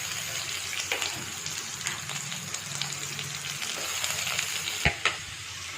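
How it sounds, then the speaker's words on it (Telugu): Onions frying in a pan along with garlic and red chillies, giving a steady close sizzle with intermittent stirring scrapes and clinks. "ఎర్రగడ్డలు బాగా కొంచెం పచ్చి వాసన పోయే వరకు వేయించుకోవాలండి"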